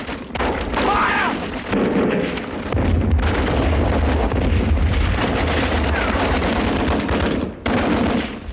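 Heavy battlefield gunfire in a war drama, with dense, loud, sustained bursts of shooting and deep booming rumbles layered together, and shouting voices mixed into the barrage.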